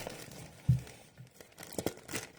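Plastic packaging around a parcel holding a 168-colour set of dual-tip markers crinkles and tears as it is opened by hand, a few sharp close rustles and crackles with quiet gaps between them.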